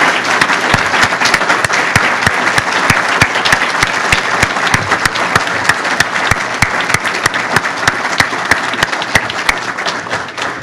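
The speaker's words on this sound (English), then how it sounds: "Would you please applaud these men?" Sustained audience applause at a fire department awards and promotions ceremony, a loud, steady wash of many clapping hands with sharp individual claps standing out, continuing unbroken for about ten seconds.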